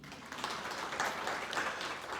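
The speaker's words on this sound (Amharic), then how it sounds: "እንደው ለራሳችሁ አጨብጭቡ።" An indoor audience at a gathering breaks into applause: dense, steady clapping of many hands, moderately loud, lasting about two seconds.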